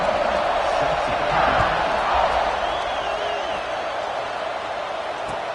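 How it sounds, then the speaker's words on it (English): A stadium crowd in a college football video game keeps up a steady roar of buzzing noise with faint whoops, while a commentator talks over it. "this crowd is buzzing after that last score"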